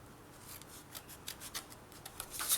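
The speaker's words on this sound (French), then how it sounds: "je vais couper au même endroit" Scissors snip through paper for a scrapbooking surprise box, a short string of crisp, close cuts that grow louder toward the end, with no voices.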